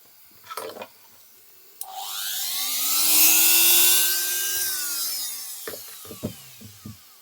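An electric polisher whirs up to a high, smooth whine, holds for a few seconds, then spins down, with handling clicks before and after.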